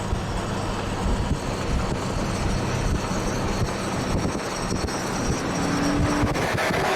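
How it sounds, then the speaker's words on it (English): A train rumbles past in a steady, loud wash of rolling noise with wind buffeting the microphone, continuous for several seconds and without speech. "But also the train, though."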